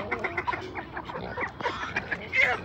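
A busy farmyard chorus of ducks quacking and chickens clucking, overlapping constantly at close range, with a few voices mixed in.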